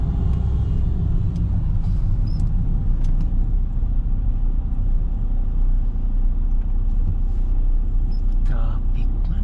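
Night traffic on city roads in Jeddah heard from inside a moving car, a steady loud engine and road rumble with occasional faint clicks, under murmured talk.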